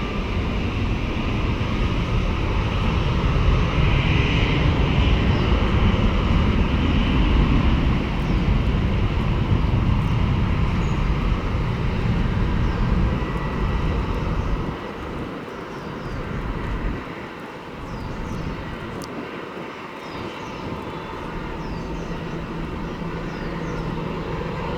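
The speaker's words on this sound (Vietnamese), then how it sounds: "Và bây giờ chiếc máy bay chạy đà cất cánh" A Vietjet Air Airbus A330-300 rolling for takeoff, its jet engines producing a loud, sustained roar with a whining tone, easing to a lower, softer rumble partway through as it moves off.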